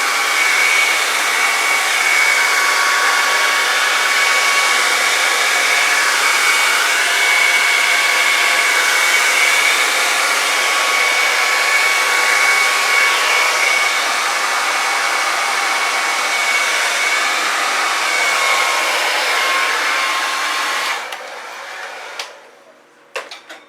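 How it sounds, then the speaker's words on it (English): Airbrush spraying fluid acrylic paint, a steady, loud airy hiss with a constant pitch for about twenty seconds, then cutting off into a few short sputtering bursts. "I do kind of want to use my airbrush."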